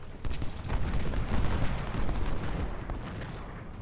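Cannon fire on a Civil War battlefield at Malvern Hill in the strategy game Ultimate General: Civil War, a dense continuous roar of booming artillery and crackling musketry with no pauses, loud throughout.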